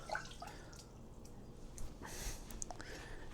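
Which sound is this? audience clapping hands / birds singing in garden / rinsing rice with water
rinsing rice with water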